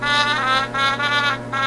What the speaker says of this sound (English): Here's trumpet.